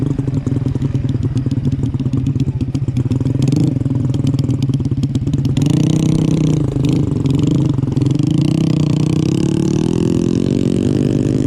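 A farm ojek motorcycle revs and pulls hard along a rough trail past a graveyard, its loud, close engine buzzing steadily with a rattling clatter, climbing in pitch as it accelerates.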